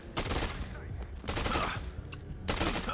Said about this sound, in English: And now they're gonna be shooting me.